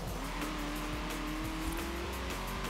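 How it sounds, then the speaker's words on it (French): A racing car's engine and exhaust in Forza Horizon 4 drone at high revs with a rising pitch and a rough, buzzing tone, steady and loud throughout. "J'aime bien le bruit du moteur, par contre. Enfin, le bruit de l'échappement."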